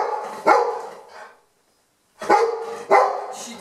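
A dog barks indoors during a clothing try-on, giving a cluster of sharp, close barks, then a brief silence, then two more loud barks.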